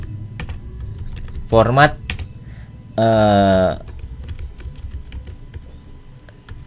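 Rapid clicking on a computer keyboard runs throughout, near and crisp, interrupted by two short spoken words.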